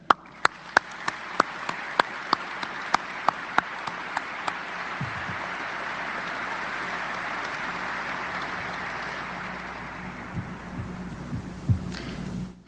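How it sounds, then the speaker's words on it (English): Audience applause at a military change of command ceremony, opening with several loud, sharp microphone-close claps before settling into a steady, sustained wash of crowd clapping that fades near the end. "So let's have a round of applause for Randall and his family."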